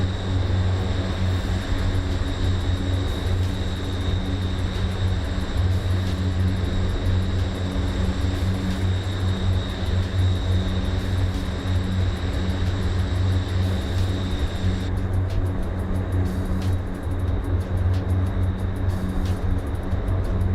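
A Fokker 27 turboprop airliner climbs in Microsoft Flight Simulator, its propellers and engines droning in a steady, loud, continuous hum with strong low tones and a thin high whine, unbroken throughout.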